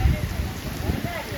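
Heavy rain pours steadily outdoors, a dense, even wash of noise that continues throughout, with faint voices underneath.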